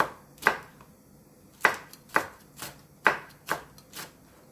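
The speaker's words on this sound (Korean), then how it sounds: "홍고추하고 청양고추도 송송 썰어주세요." Red and cheongyang chili peppers are sliced with a knife on a cutting board: about eight crisp, separate chops at an uneven pace, close and clear with no talk.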